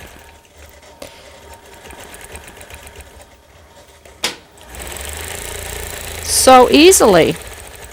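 A quilting sewing machine stitches crosshatch circles on a quilt in short, rapid bursts near the end, preceded by quieter handling and someone speaking softly.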